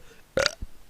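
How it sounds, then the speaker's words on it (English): A single short burp, loud and close, bursting out over a quiet background with a softer low thump just after it. "Can you virus pass from burping?"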